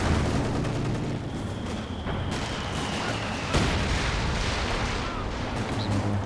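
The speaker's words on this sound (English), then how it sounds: "Stuka barrage." Stuka dive bomber barrage in Company of Heroes 2, a dense run of booming explosions and gunfire rumbling continuously, with one sharper blast midway and a thin whine overhead.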